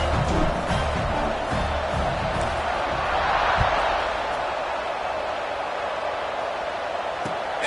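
A large stadium crowd roars steadily at a college football game as the defense takes the field after a touchdown kickoff, a dense continuous wash of cheering with a few brief peaks, heard alone without talk.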